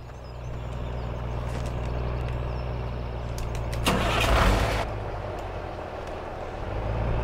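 A truck engine in Farming Simulator 17 idles with a low steady rumble, swelling into a brief louder burst of revving or hissing midway, then settling back to idle.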